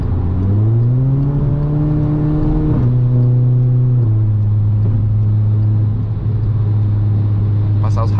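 A tuned car accelerates hard along a highway, its engine droning loud and steady from inside the cabin, rising in pitch and then dropping in two clear gear-shift steps.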